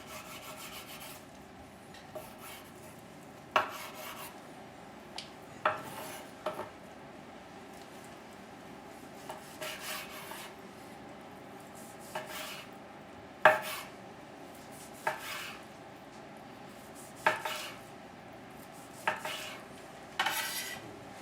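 Knife slicing through smoked brisket on a board, producing a series of soft, short rasping and tapping strokes at irregular intervals, fairly close over quiet room tone, with no talking.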